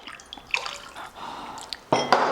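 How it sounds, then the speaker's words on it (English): Water is poured into sour curd in a bowl before blending, giving soft trickling and dripping sounds with a brief louder splash near the end, fairly quiet and with no talk over it. "I'm going to add water, and then we're going to quickly blend this."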